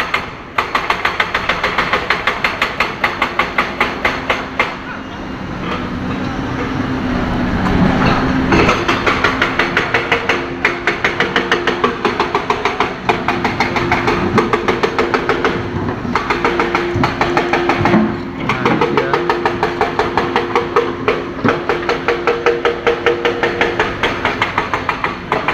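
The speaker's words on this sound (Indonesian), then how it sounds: "teman-teman kita bisa dengar bisingnya suara mesin yang tengah bekerja pada siang hari ini" Loud heavy machinery repairing a road pounds with rapid, repetitive mechanical hammering over a deep engine drone, continuing throughout with brief pauses.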